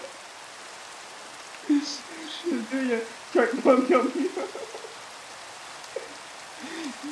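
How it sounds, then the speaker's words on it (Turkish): Minecraft rain falls as a soft, constant hiss beneath people talking and laughing, staying low and even throughout. "Yağmuru durdur."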